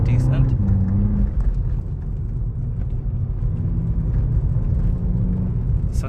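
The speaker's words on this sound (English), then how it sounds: "right now we're driving through a very pebbled road, and the suspension is dealing with the bumps really well" A 2022 VW Polo GTI rolls over a pebbled road, giving a low, continuous rumble of tyres and road noise inside the cabin under a voice talking.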